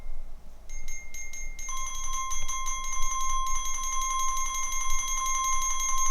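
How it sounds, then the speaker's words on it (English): Alarm-clock-style glockenspiel ringtone for on-call alerts, bright bell tones striking in quick repeated bursts before settling into a sustained ringing pattern, loud and alone. "accompanying these two, you have this sort of traditional alarm clock sounding"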